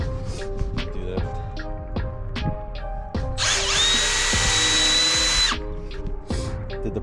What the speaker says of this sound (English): I have a tiny pilot drill bit to start it.